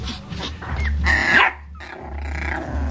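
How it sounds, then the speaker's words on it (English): Puppies bark and growl close by, several sharp yips and barks in bursts with a louder cluster midway, no talking. "Who's barking?"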